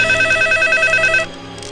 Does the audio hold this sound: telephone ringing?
yes